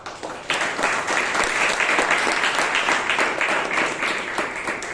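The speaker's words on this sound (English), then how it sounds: "A big round of applause to Akash, please." Audience applause at a Toastmasters club meeting in Bangalore, a dense, steady wash of many hands clapping close by that swells after a brief opening and holds loud for the rest of the stretch.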